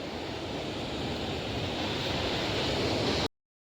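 Steady, loud sea surf washing onto the shore below a fishing spot, a continuous broadband roar with some wind buffeting the microphone, no voices, cutting off abruptly near the end.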